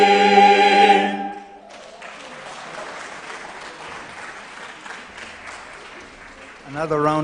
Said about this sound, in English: Another round of applause, please, as we finish the Asian wing.